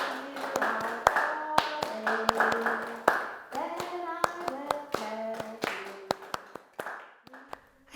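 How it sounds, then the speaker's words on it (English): Choir members clapping a simple rhythm together at home, sharp claps falling in an uneven repeating pattern alongside a sung melody, fairly quiet overall. "my choir buddies accompanied me by clapping a simple rhythm"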